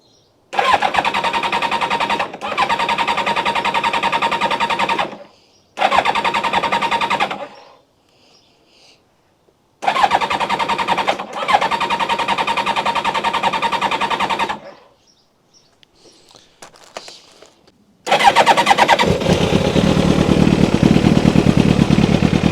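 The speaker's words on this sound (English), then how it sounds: "Alright, let's try and start again. Let's get the choke on." Kawasaki ZX7R motorcycle, choke on after running out of fuel, cranks over with the starter in several long bursts separated by silences, then finally catches and runs loudly at close range.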